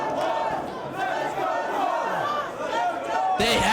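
An arena crowd at a Samoa Joe vs CM Punk wrestling match roars and cheers in a continuous wash, with a commentator's voice riding over the noise and a sharp surge near the end.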